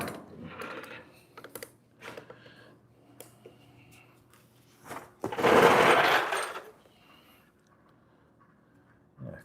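A welder tacks a 1938 Cadillac rear bumperette: short crackling bursts, one longer loud buzzing hiss near the middle, with scattered clinks and shop handling noises between, close by and without talk.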